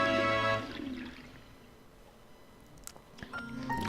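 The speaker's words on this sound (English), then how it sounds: "notice all the water drained into that cave" Water draining away into a cave opening in the video game Pikmin 2, a steady washing, gurgling flow that starts loud, eases into a softer running wash, then swells again with a few splashy accents near the end.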